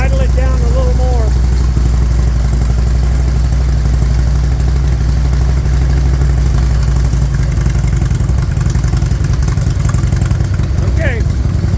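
A 2001 Harley-Davidson Electra Glide engine idles loud and close with a steady low rumble after a carburetor tune. Voices talk over the running engine.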